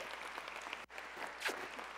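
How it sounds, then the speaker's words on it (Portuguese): Church congregation applauding at a Brazilian service, a steady wash of many hands clapping that briefly dips, then continues evenly at moderate loudness. "Uma salva de palmas para a Nona."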